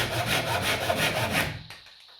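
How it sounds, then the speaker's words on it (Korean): Hand saw cutting wood on a slight diagonal in traditional joinery, trimming excess stock after wedges are driven: steady back-and-forth rasping strokes, close and loud, that stop near the end, leaving quiet. "일부러 좀 사선으로 자르고 있습니다."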